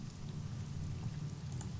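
Steady rain falling, a soft, even patter with a low rumbling undertone, held at a constant moderate level throughout with no voices.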